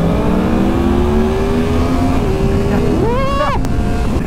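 Japanese super naked motorcycle accelerating hard at about three-quarter throttle, a loud rising engine note with climbing harmonics, a sharp upshift near the end, and heavy wind rush throughout.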